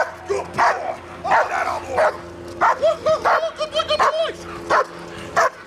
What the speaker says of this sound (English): I told you, I have a dog, come out or I'm gonna send him.